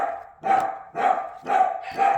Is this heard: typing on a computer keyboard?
no